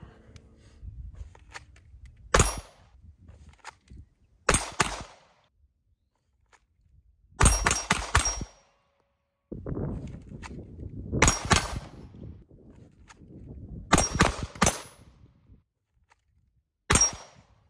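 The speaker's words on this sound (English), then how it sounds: "I'll do a couple draws real quick just to show as far as accessibility" Several pistol draws from a CrossBreed Modular Belly Band 2.0 holster, each a sharp close click or clack in short clusters separated by quiet gaps, with no talk.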